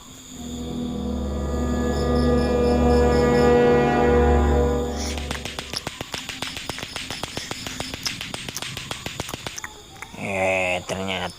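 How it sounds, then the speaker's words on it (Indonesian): Rapid rhythmic clacking of a lato-lato clacker toy in an animated ghost cartoon, a steady string of sharp hard clicks following a loud droning tone, ending with a short burst of other sound. "Ternyata suara lato-lato."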